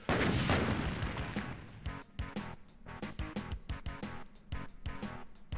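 Rapid, relentless gunfire from a weapon in the original DOOM, a dense burst of sharp blasts that gives way to a steady run of separate loud shots at a quick, even pace, with game music underneath.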